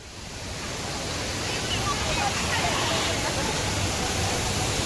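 A waterfall roars steadily on a monsoon trip in the Konkan, a dense continuous rushing wash of falling water, loud and unbroken throughout.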